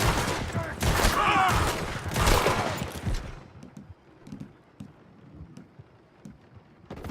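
Dense, loud gunfire from a Red Dead Redemption 2 shootout fills the first three seconds, then fades into scattered distant shots and rumbling, with brief voices in between.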